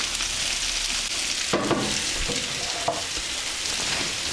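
German fried potatoes (Bratkartoffeln) sizzling steadily in a pan, a close, continuous hissing fry with a few scraping knocks and clacks as they are stirred.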